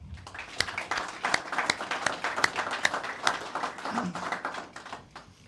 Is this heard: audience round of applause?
yes